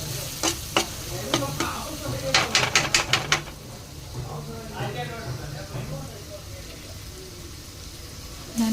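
Shrimp frying in a little oil as a spatula stirs it. A run of quick rhythmic scraping strokes stands out over a continuous sizzle, with some voice in the background.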